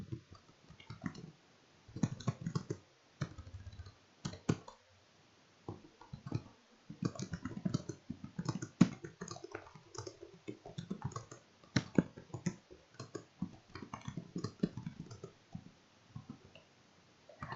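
Computer keyboard typing, irregular soft clicks and taps in bursts spread across the whole stretch, close and fairly quiet, with no voices.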